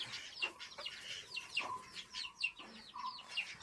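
A lone hen standing apart after losing its rooster gives a run of short, close clucks and chirps, repeated irregularly over a steady outdoor background.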